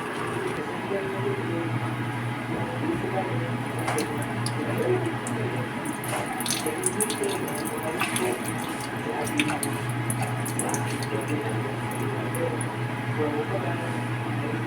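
Black beans are rinsed under running water in a kitchen while cooking tilapia, a steady faint splashing stream with small scattered clicks and drips throughout.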